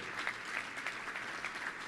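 Audience at a Touchdown Club luncheon gives a round of applause, a fairly faint, even spread of many hands clapping in a large room.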